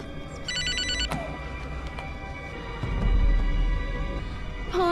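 A telephone rings in repeated electronic trills against a low background hum and scattered thumps, with no talk.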